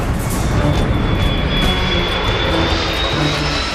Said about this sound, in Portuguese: Por 2 vezes, ele tenta pousar a aeronave